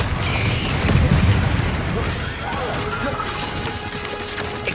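A Confringo fire spell explodes in Hogwarts Legacy with a loud, booming blast near the start. Rumbling, crackling battle noise fills the rest of the moment, mixed with faint voices.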